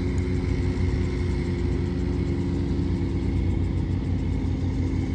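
A tractor engine runs at a steady, loud, low rumble on a sandy grain-loading field during the Goiás harvest, a continuous drone with no talking.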